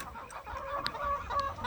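Chickens in a coop in the evening, pecking at cucumbers and giving soft, scattered clucks and short calls close by over a low background.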